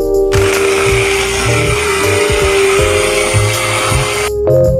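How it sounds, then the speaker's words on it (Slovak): Kitchen blender whirring steadily as it purees meatball mixture with egg, black pepper and salt for IKEA-style meatballs, a loud continuous motor whine that starts abruptly, runs for about four seconds and cuts off. "a teraz to všetko rozmixujeme"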